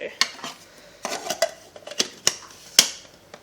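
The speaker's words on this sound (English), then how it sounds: "So I'll start with the sweet potato and the carrot, just to chop it up a little bit." Sweet potato and carrot are chopped with a knife on a board, giving a quick irregular series of crisp close-up knocks and clicks.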